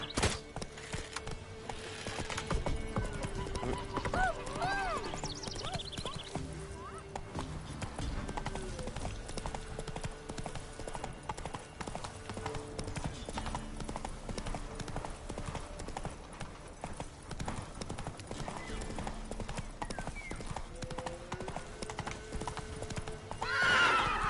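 Hooves of Roach, the horse in The Witcher 3 swamp, clip-clop steadily and close throughout, with a brief whinny early on and faint background game music and ambience.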